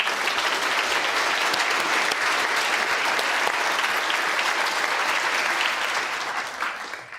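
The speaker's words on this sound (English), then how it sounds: "Zahn, big round of applause." Sustained, dense applause from an audience, steady and loud throughout before tapering slightly at the end.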